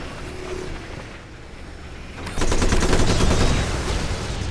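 A battle in Civilization Beyond Earth, with a battle suit unit engaging, breaks into a sudden burst of rapid gunfire halfway through, loud and dense after a quieter ambient stretch.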